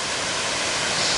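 A waterfall on a snowy hiking trail pours in a steady, loud broadband roar, close by and unbroken, with no voices over it.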